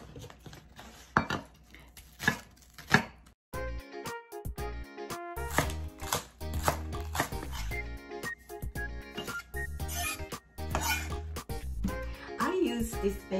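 A knife chops green onion (negi) in a series of sharp, rhythmic cuts, with pauses and a few quieter taps, over background music.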